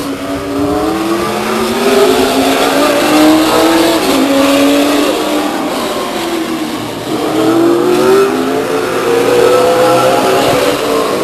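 A late model race car laps the Stockton 99 Speedway, its engine roaring loud and steady with rising and falling pitch as it passes through the turns, a continuous racing drone lasting the whole stretch.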